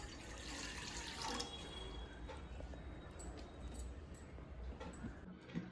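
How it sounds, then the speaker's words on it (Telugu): Steady rush of about 200 ml of water running into a pot, continuous and fairly close, with a few faint clinks near the end. "ఇందులోకి ఒక టూ హండ్రెడ్ ఎంఎల్ వాటర్ వేసుకుందాం"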